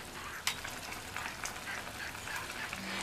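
Ridge gourd and chana dal with salt and a roasted ground paste are stirred in a hot pan, giving a steady close sizzle with a light scrape of the spoon near the start.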